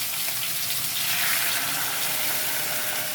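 Hot water is poured into a pot of browned meat and onions while cooking, making a steady, close gushing splash that runs for a few seconds without any voices.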